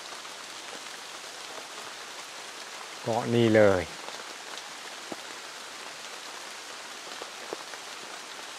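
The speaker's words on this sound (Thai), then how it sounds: "เต็มไปด้วยละอองฝนละอองหมอก" Rain pattering softly and steadily in a misty mountain forest, a faint continuous hiss with occasional drops, while someone speaks briefly once in the middle.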